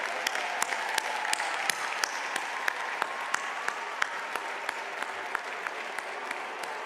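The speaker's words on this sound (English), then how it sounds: "Please join me in a round of applause" A large crowd at a university spring commencement ceremony claps steadily, a dense even patter of applause heard from a distance and sustained throughout.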